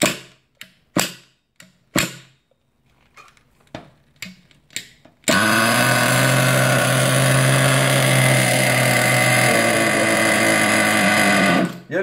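An RC nitro buggy's small engine gets several sharp pull-start tries, then catches and roars into a loud, steady buzzing idle that holds for about seven seconds before cutting out.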